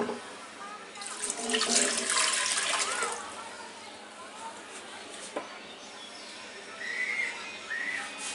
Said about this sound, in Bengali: সেই জন্য আমি এখানে 3 কাপ পানি দিলাম